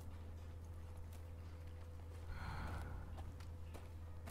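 A horse in the Ghost of Tsushima video game gives a soft, breathy snort partway through, with faint hoof clops over a steady low hum, all quiet and close.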